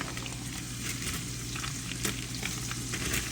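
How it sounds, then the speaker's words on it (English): Hillshire sausage frying in a skillet, a steady crackling sizzle with scattered sharp pops and the occasional scrape of stirring, close and fairly quiet, with no voices. "I'm gonna bring y'all along as I fry this sausage"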